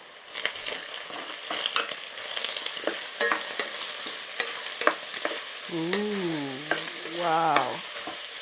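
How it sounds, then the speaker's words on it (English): Spicy food seasoned with black pepper fries in a pan for fried rice with turkey wings while a spoon scrapes and stirs, rhythmic close scraping over a constant sizzle, with a brief vocal exclamation near the end. "And then you stir."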